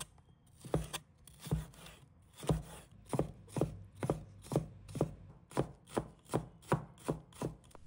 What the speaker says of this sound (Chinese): 再准备适量的青红椒，把它切成小粒